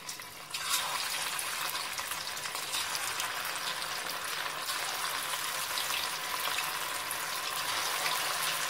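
Chicken pieces for a home-style chicken 65 dropped into hot oil, which bursts into a loud, dense, steady sizzle and keeps crackling evenly with no talk.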